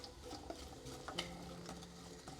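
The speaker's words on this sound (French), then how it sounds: "je vais ajouter mes oignons pour les faire dorer quelques minutes" Onions browning in olive oil in a saucepan, a steady soft sizzle with a few stirring scrapes and light clinks close by, no voices.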